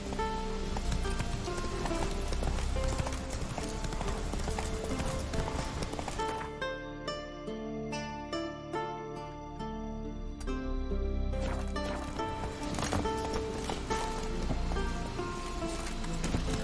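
Roach, the horse in The Witcher 3 game, galloping: rapid, steady hoofbeats under loud, dense game music and ambience, with a brief quieter stretch where the music thins.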